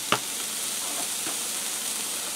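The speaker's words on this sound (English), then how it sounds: "I'm going to add in my garlic." Minced garlic added to a hot pan of softened onions and carrots, a sharp clatter as it lands followed by a steady, moderately loud sizzle and hiss, with no talking.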